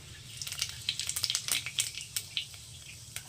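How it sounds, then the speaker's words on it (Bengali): Cumin seeds sizzling in hot oil in a wok while cooking kochu chingri, a soft crackling hiss broken by scattered sharp pops, close and fairly quiet, with no talking. "তেলের মধ্যে দিয়ে দিচ্ছে একটু সাদা জিরে ফোড়নে"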